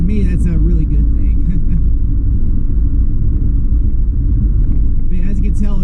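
Jeep Wrangler Rubicon rental car cruising on an interstate highway, a steady loud low road rumble and engine drone filling the cabin throughout, with a person talking over it at the start and end.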